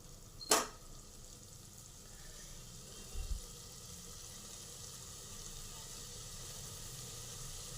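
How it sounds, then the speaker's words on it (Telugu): Chili powder and coriander powder fry for mutton curry with a soft, steady sizzle, faint and continuous, broken by one brief sharp hiss near the start and a small low bump later. "ఈ కారము ధనియాల పొడి అంతా పచ్చివాసన పోయినాక కొద్దిసేపు వేయించుదాం"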